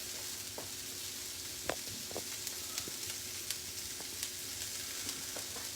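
Frozen vegetables sizzle softly in a hot skillet while being stirred, a steady hiss broken by scattered clicks and scrapes of the spoon against the pan.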